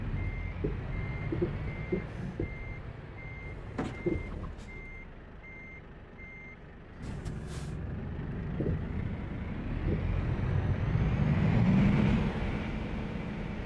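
A truck backs up, its reversing alarm beeping steadily and repeatedly over a low engine rumble, with a hiss and a few knocks partway through.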